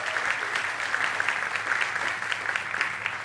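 A church congregation applauding during a celebration service, steady massed clapping that runs evenly for about three seconds and ends in a brief louder burst.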